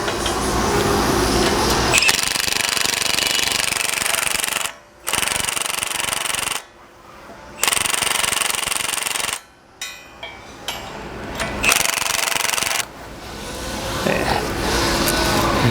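Power tool running bolts in on a Kubota tractor undercarriage for a KAGE snow plow system, loud rattling bursts of several seconds each separated by brief stops, close up with no talk.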